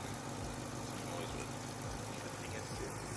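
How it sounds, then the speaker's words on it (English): A car engine runs at idle through an aftermarket exhaust setup, giving a steady, rumbling drone with a slight pulsing low end, while people talk over it. "I like this exhaust setup now. It's only loud when you want it to."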